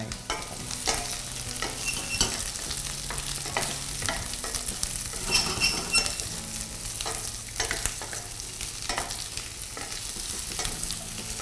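Vegetables and small pieces of spice stir-fried in a pan over low heat for a seafood stew, with a steady soft sizzle and repeated scraping strokes of a utensil continuing throughout, close and without talk.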